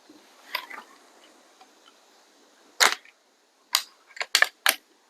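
A .25 calibre Theoben Eliminator air rifle fired on a bench: a sharp, crisp crack, then a few quick mechanical clicks and snaps, set against a quiet background.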